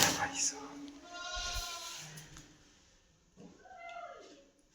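A goat bleats at a farm well while jaggery water is prepared for it, the cry wavering through a couple of drawn-out calls against outdoor background noise.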